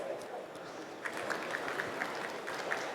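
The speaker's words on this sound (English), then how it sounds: "Let's give them a warm round of applause." An audience at the IFX Expo Asia finance expo applauds a panel for about three seconds, a soft, even wash of clapping with a few sharper claps standing out.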